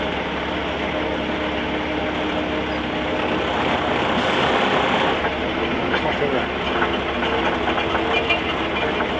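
A miniature railway locomotive's wheels slip on the rails at Ruislip Lido Railway, a loud continuous grinding, rushing roar with engine noise that swells midway, while people talk nearby.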